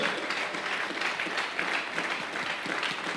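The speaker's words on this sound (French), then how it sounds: "Acclamons la parole de Dieu" A church congregation claps together in a sustained wash of applause, fairly even in loudness and filling the room for a few seconds with no clear voices over it.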